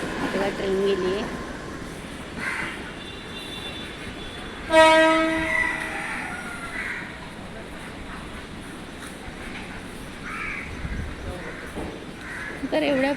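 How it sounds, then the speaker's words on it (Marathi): A passing train near a creek gives a loud horn blast partway through, over a lower rail rumble, with crows cawing and people talking nearby. "ट्रेन गेली आहे."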